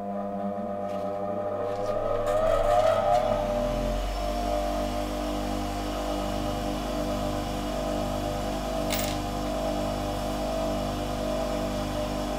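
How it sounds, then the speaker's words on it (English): A bench grinder spins up and keeps running as a steady motor whine with a rising pitch at the start, used for shaping a nail into a drifting tool for riveted mail armour; loud, continuous and alone. "Okay, so I'm going to turn the grinder on now."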